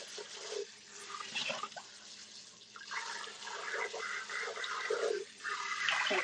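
Running tap water rinses out a blender in a home kitchen, a continuous splashing flow that rises and falls in strength. There is no talking.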